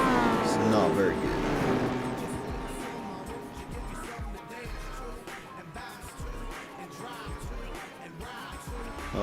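Race car engines from Gran Turismo 4 during a 200-mile El Capitan endurance race, a loud engine drone with shifting pitch at first that eases into a steady rumble beneath continuous commentary.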